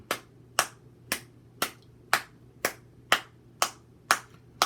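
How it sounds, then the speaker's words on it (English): Hands clap a steady, slow rhythm, ten crisp claps spaced about half a second apart, close and alone with no talking, keeping time for a call-and-response story chant. "You just listen to me clap."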